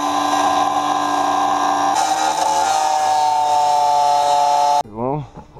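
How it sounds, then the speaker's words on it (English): An angle grinder whines at a high, steady pitch as it grinds off spot welds on the rear apron of a 1974 VW Super Beetle, shifting tone once midway, then cutting out as a short voice follows. "Now, grind all that off and we'll be set."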